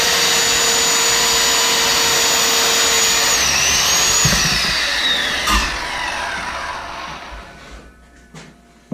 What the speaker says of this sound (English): for the other prettier looking piece, we're going to use the table saw